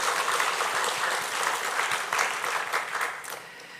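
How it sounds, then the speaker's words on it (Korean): A congregation at a Sunday church service claps steadily and fairly loudly for a few seconds, a dense, continuous applause without talk. "우리 박수로 한번 격려하겠습니다"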